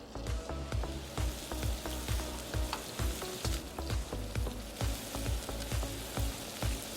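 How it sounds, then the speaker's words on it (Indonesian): Bulgogi stir-fried in oil in a pan: a constant crackling sizzle broken by regular, rhythmic scrapes and tosses of the spatula, close and steady throughout. "Kita akan pan fried. Ya, oil. Kita akan tumis sekarang."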